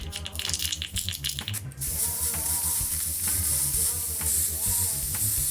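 An airbrush sprays thinned paint mixed with flow improver in a steady hissing stream, starting after a short rattly burst and holding on close and continuous.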